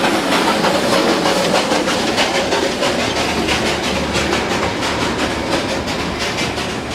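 Darjeeling Himalayan toy train running close past shops, a loud, steady rumble with rhythmic wheel clatter that holds close by for the whole stretch.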